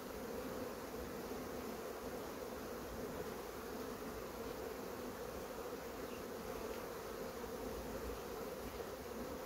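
A crowded honeybee colony in a hive that has outgrown its box drones with a dense, steady buzz that stays constant throughout and sounds close and even, with no voices.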